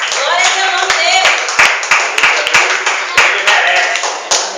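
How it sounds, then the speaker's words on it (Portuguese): A church congregation at an Assembly of God service claps in a round of applause, sharp rhythmic hand claps close by, with voices calling out over them. "dê uma salva de palmas para Jesus"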